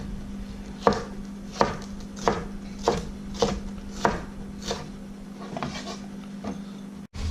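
A knife slicing a deseeded pepper on a cutting board, with about a dozen evenly spaced, crisp chops close by over a faint steady hum.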